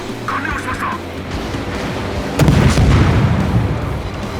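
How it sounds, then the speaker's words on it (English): A torpedo strikes a ship in the naval warfare video game World of Warships, a sudden loud booming explosion that erupts midway and rumbles on heavily over steady background game noise. "Just watch the torpedo here."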